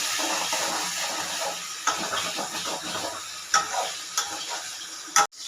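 Pointed gourd curry stirred in a pan while garam masala goes in, a steady close sizzle with scraping spoon strokes and a few sharper clanks against the pan, no talking.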